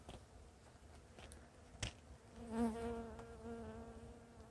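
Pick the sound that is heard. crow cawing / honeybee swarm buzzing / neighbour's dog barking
honeybee swarm buzzing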